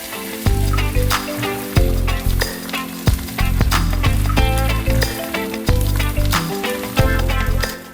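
Egg frying in butter in a pan for a bread omelette, a steady loud sizzle throughout with clinks and scrapes of a utensil stirring, no voices.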